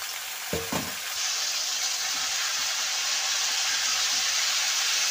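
Broccoli sizzles loudly as it goes into a hot pan of already-fried potatoes, a few thumps of it landing followed by a steady, close hiss that fills the rest of the moment with no talking.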